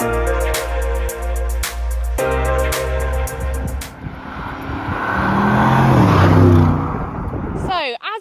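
An Audi RS6 Avant Performance engine starts off as a steady low idle with rhythmic pulses, then swells into a loud, rising rev with a broad roar before cutting off abruptly near the end.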